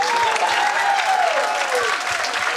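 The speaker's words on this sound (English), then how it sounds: "Round of applause" A gala crowd applauds the artisans, dense, loud clapping filling the room continuously, with a voice carrying faintly through it.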